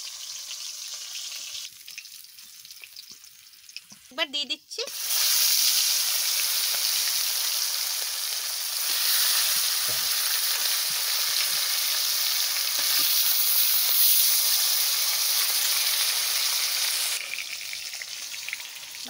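Hilsa fish frying in a pan of oil: after a few seconds of quiet handling and a short clatter, a loud, steady sizzle starts and keeps going close up, with a brief spoken line near the start.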